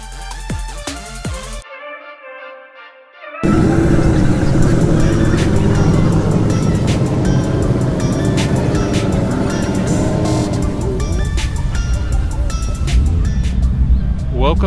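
At a Nashville Cars and Coffee meet, vehicle engines rumble steadily as cars roll in, a loud continuous drone with scattered clicks. A short musical sting comes first, then a silent gap before the engines start.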